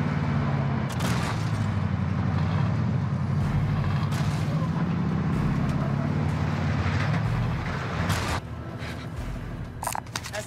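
A vehicle in Call of Duty Warzone 3 rumbles with a steady low engine drone under game effects, then the engine cuts out near the end, leaving a few scattered thumps and clicks.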